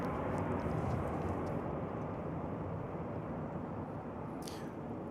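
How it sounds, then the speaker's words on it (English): American Airlines airliner arriving at Dallas/Fort Worth Airport, a steady broad engine roar that holds constant and fairly distant throughout, with no voices. "That was American Flight 665 coming in from Montrose."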